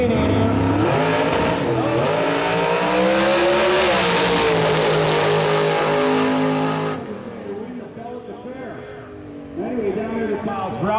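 A Mustang drag car revving loudly at a drag radial race, the engine note climbing and holding in a roaring wail before dropping off, then picking up again with crowd and track noise.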